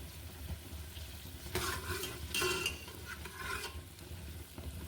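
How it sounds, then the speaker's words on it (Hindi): Sliced onions fry in a little oil in a pressure cooker, a soft sizzle broken by several bursts of stirring and scraping against the metal. "अनियन को हम फ्राई करेंगे"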